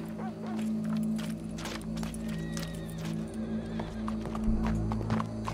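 Horses in Red Dead Redemption 2 clop their hooves and whinny over a busy outdoor scene with steady background hum and scattered clatter.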